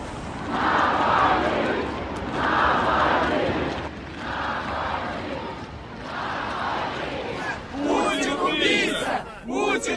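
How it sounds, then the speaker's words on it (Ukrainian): A large crowd in Moscow rhythmically chants slogans in repeated bursts during a funeral procession to a cemetery, loud and continuous, with whistles and shouts near the end. "Дорогою люди скандували"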